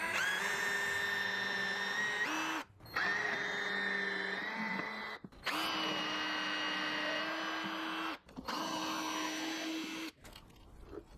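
A power drill whines through wood in four separate bursts of a few seconds each, with short pauses between them, close and fairly loud.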